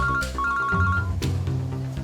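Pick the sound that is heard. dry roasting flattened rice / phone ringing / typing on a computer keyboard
phone ringing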